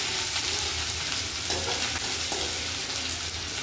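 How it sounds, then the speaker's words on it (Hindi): Garlic, ginger and chilies fry in hot oil for a spicy manchow soup, a close, steady sizzle with faint stirring scrapes throughout and no talking. "अब हम इसमें लहसुन और अदरक डाल देंगे। इसे अच्छे से भून लेंगे।"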